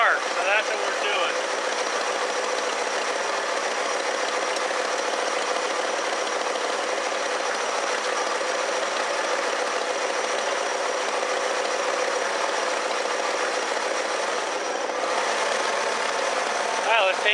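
A 1969 Lincoln Mark III engine idles hot in park, giving a steady, even drone that holds at the same level throughout with no breaks.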